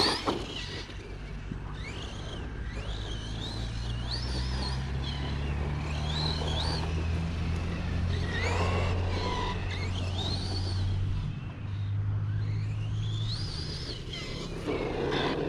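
A Losi Lasernut 4S RC truck drives and turns, its electric motor giving a steady low droning whine that swells and dips, while birds chirp in the background.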